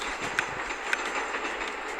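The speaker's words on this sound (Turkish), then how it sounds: "Destansı tren gönderelim" An epic train dispatched in the mobile game Train Station 2, a steady rumble of rolling rail noise with faint clickety-clack and a couple of soft clicks, no voices.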